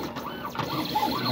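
An MK1200 sticker cutting machine runs with a steady, continuous whirring and mechanical hum, with faint periodic sweeping motor tones, close up and without talk.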